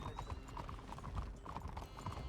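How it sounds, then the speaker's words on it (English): A white Arabian horse in the video game Red Dead Redemption 2 walks along at a steady rhythm, its hooves clip-clopping clearly over ambient game sound. "Click clop, click clop, click clop, click clop."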